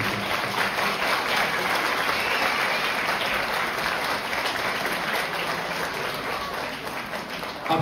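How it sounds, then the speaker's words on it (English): An audience at a Bengali cultural show in Germany gives sustained applause to welcome a singer, dense clapping from a large crowd that holds steady for several seconds and thins slightly near the end. "please give a huge round of applause to welcome"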